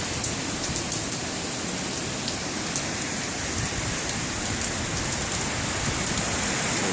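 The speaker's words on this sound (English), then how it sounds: "Some strong gust." Hurricane rain, pushed by strong wind gusts over north central Florida, pours down in a dense, steady roar of drops hitting surfaces, with no voices.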